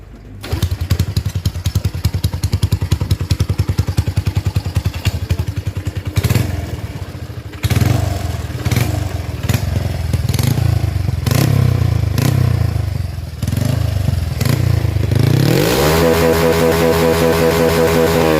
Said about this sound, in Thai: ว่าจะเป็นยังไงติดเครื่องให้ฟังเสียงหน่อยครับ